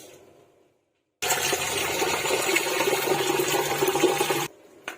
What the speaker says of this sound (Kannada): ಈಗ ನಾನು ಅಕ್ಕಿ ತೊಳ್ಕೊಳ್ತೀನಿ